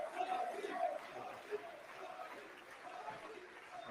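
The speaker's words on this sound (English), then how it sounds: "they actually got people cheering his name" Crowd of people cheering and chanting a name together, a moderately distant, continuous roar with rising shouts near the start.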